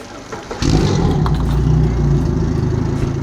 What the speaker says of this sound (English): I'm going to climb up on the boat, start the engine, get it running.